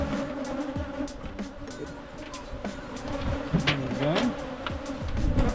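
African honeybees buzz around opened hives during a rebuild, a steady close drone with a few louder passes near the microphone, while a person speaks briefly over it.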